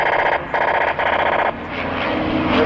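An aircraft roars past at an air show, a loud, steady engine drone that pulses in a few surges and then shifts in tone as it moves away, with no voices.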